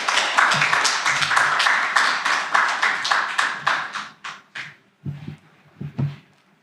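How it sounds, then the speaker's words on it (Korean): A church congregation claps to welcome a visiting missionary to the pulpit, a brisk burst of applause that thins out and ends in a few scattered final claps. "우리 박수로 환영하겠습니다."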